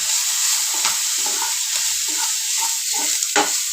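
Tempering sizzles in hot ghee as spices are stirred in, a steady crackling fry with scattered short stir and scrape clicks, close and fairly loud with no talk.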